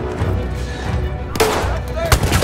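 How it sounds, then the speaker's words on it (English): A rifle grenade fires in Battlefield 1 amid combat noise, a sudden loud burst partway through followed by a second sharp blast, close and heavy. "Rifle grenade."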